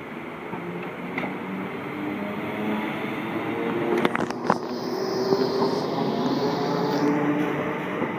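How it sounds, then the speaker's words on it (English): An electric train, unit 455-833, hums and whines as it pulls away from Caterham station, a steady rumble that builds slowly, with a couple of clanks partway through. "455-833 departing Caterham, delayed."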